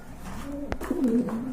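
A pigeon gives a soft, low coo lasting under a second, preceded by a brief sharp tap, in a quiet setting.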